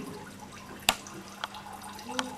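Water squirted down into a container during a classroom air demonstration, heard as three short, separate splashy spurts against a quiet room hum.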